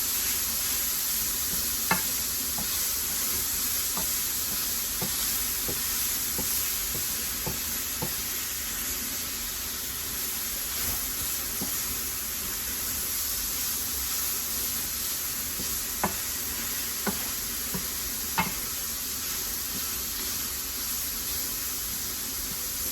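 Sausage for gravy sizzling steadily in a pan, with a constant frying hiss and occasional soft scrapes and clicks of stirring, heard alone at moderate closeness.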